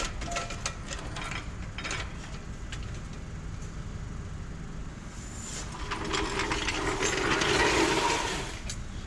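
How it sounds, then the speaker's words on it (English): A hand ratchet works loose the clutch bolts on a Peterbilt 359 during a transmission swap, giving repeated close clicking pawl strokes over a steady background hum of the shop. "But basically we're just gonna take the bolts out."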